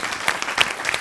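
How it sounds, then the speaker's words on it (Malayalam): Crowd applause for Aneesh on a Malayalam comedy stage show, a short, bright burst of many hands clapping together, close and steady with no voices. "നല്ലൊരു കൈയടി കൊടുക്കാം നമുക്ക് അനീഷിന്."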